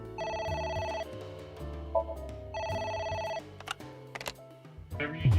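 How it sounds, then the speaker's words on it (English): Telephone ringing in the video game AI: The Somnium Files, two loud trilling ring bursts separated by a pause over a low background score, followed by scattered clatter and effects. "A phone."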